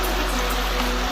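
The Chaulabhoja waterfall in Mayurbhanj pours in rainy weather as a loud, dense, continuous rush of flowing water heard up close with no voices.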